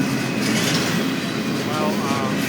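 A train runs along tracks laid in a city street, its steady rumble and rolling clatter loud and close, with faint voices in the background.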